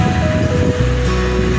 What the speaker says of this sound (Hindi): अब मैं इसमें 250 ग्राम, ऑलमोस्ट 250 ग्राम कीमा ऐड कर रही हूँ।